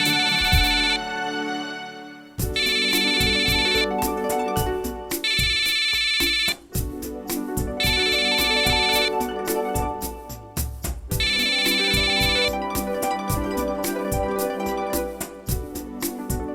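A phone ringtone rings out loud and repeated for about fourteen seconds, its bright tonal bursts pulsing over a steady musical beat after a short quieter lead-in, with no talking.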